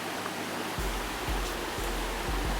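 Waterfall in Rincon de la Vieja park, Costa Rica, at the end of a wooded hiking path: a steady, dense rush of falling water, continuous and fairly close, with no voices.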